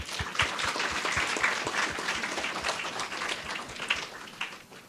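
Steady audience applause at a primary-school spelling bee in St. Lucia, many hands clapping in a dense, even patter that runs for a few seconds before thinning out at the end.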